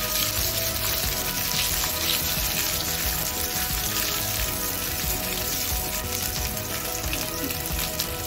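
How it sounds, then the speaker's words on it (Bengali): Ginger sizzling steadily in hot oil in a pan, dusted with a little turmeric, for a cabbage curry with hilsa fish head; a dense, continuous close frying crackle with no talk. "ভালো করে আদাটাকে লাল লাল করে ভেজে নিলাম।"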